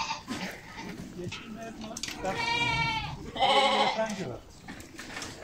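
Goats and sheep on a highland pasture at Haçka Yaylası near Silifke bleat in two clear, wavering calls close by, with people talking among the animals around them.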